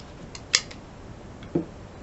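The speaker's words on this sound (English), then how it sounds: "you just cut the strips you need to make the border for our little Bo Peep quilt" Fabric strips for a quilt border are cut, giving two short, crisp snips about a second apart over a quiet background.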